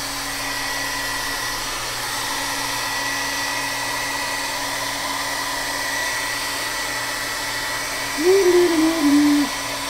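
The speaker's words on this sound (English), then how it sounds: "I'm going to go ahead and hit it with the hair dryer." A hair dryer drying paint blows with a steady, loud whooshing drone throughout, and a brief voice-like tone rises near the end.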